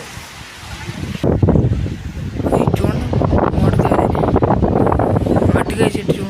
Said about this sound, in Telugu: అసలు ఆ మామూలు కాదు, అంత గాలి వచ్చింది